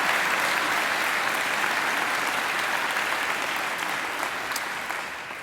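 Steady applause from a graduation audience at a Macquarie University ceremony, a dense even wash of clapping that holds strong throughout and eases slightly toward the end, with no talking over it.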